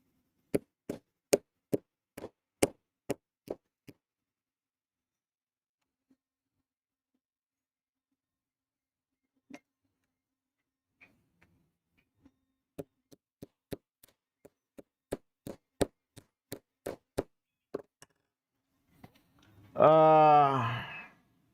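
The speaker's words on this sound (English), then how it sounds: "Let's get the little tapper hammer out. Give her a little tap tap." A small tapper hammer strikes a compact 3D printer toolhead assembly in quick, sharp, light taps, first in a short cluster, then scattered single taps, then a longer tapping run, close and crisp against silence, ending with a brief spoken word.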